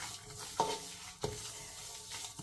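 Fennel seeds roasting in a pan, with quiet dry rustling and two sharp scrapes of a stirring spoon against the metal, soft and close, no voices.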